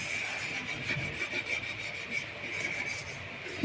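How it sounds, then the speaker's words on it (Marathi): A gas stove being scrubbed clean by hand with cleaning powder, a steady close rasping rub with repeated back-and-forth strokes at a fairly even pace and no talking. "गॅस मस्तपैकी घासून घेतला स्वच्छ धुवून घेतला"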